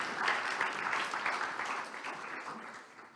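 Audience applause at a youth politics conference in Latvia as the Latvian president, Edgars Rinkēvičs, is invited on stage: a steady, moderately distant wash of clapping that slowly fades over a few seconds, with no talking.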